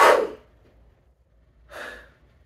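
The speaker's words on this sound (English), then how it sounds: "putting your knuckle against your lips here, just kind of in the middle. And then just kind of taking that breath in." Two sharp intakes of breath drawn past a knuckle pressed against the lips, each a short breathy hiss, close and alone with a quiet gap between them.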